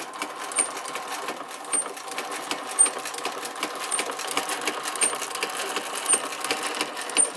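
A Singer 72W12 hemstitch sewing machine runs steadily, its arms moving in and out in a fast continuous mechanical chatter with light ticking clicks, close and fairly loud with no talk.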